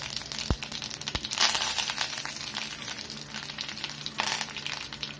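Mustard seeds splutter in hot oil as a tempering for garlic chutney, a close sizzle scattered with sharp pops and crackles, with a couple of louder bursts and a low thud early on.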